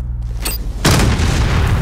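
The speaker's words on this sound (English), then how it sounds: "That explosion was the signal." A loud, sudden boom in a video game, with an earlier faint burst before a heavy blast erupts and rumbles on without fading.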